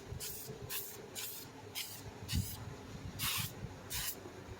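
An aerosol spray can sprayed onto a dented Jeep body panel in repeated short hissing bursts of about half a second each, loud and close, with no talk.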